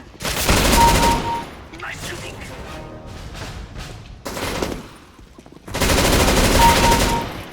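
Repeated automatic gunfire bursts from CS:GO, the first-person shooter, come in three loud sustained volleys with quieter gaps between them, and a player's voice can be heard faintly in the background.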